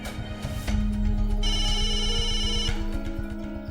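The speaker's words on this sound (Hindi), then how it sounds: "आपका फोन बज रहा है।" A phone rings with a bright electronic ringtone, a steady repeating trill that plays for a couple of seconds over a low background hum.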